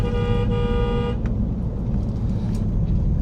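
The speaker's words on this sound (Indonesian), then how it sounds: "Sorry ya kalau berisik, cuman kalau nggak klakson gini ngeri ya." A car horn sounds for about a second as a steady tonal honk over loud in-cabin road rumble and engine noise while driving, after which the drone continues alone.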